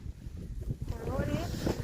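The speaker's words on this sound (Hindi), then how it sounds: "फिलहाल तेज तेज हवा चल रही है" Strong, gusty wind blows steadily across an open Himalayan mountain village as snow begins falling on the peaks, with broadband rushing noise and buffeting on the microphone throughout, plus a faint, brief voice partway through.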